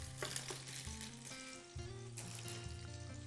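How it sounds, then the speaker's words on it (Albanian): Vegetables fry in a pan for a village salami dish with wine, giving a faint, continuous sizzle over steady tonal background sound. "I lë që të skuqen."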